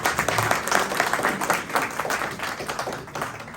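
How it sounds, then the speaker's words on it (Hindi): An audience at a community society felicitation event claps together, a fairly faint, steady patter of many hands that holds for several seconds, tapering slightly at the end. "तो एक ताली अरविंद केजरीवाल के नाम पे जोर से दें।"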